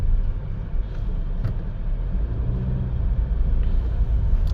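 Honda Elevate with a 1.5-litre naturally aspirated engine and CVT, driven in sport mode, gives a steady, loud low rumble of engine and road noise from inside the cabin, with no talking.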